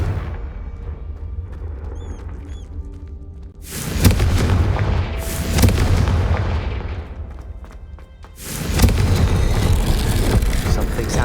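Blasts of the Confringo fire spell in Hogwarts Legacy, heard as two heavy booming explosions with long rumbling decay, after a quieter stretch of game ambience with a few faint tones.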